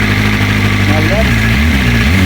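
BMW M1000RR superbike with an Arrow Pista GP exhaust idles steadily, a loud close rumble with constant low throb, while someone talks over it.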